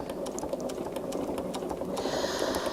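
A sewing machine quilting at a moderate pace, its rapid rhythmic needle clatter and motor hum running continuously up close with no speech.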